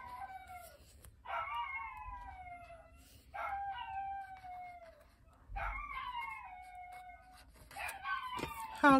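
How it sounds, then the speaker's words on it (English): Dogs howl in repeated, drawn-out falling wails, several overlapping in a chorus at moderate distance, with short pauses between bouts and a sharper outburst near the end. No one speaks. "I'm so sorry about the dogs."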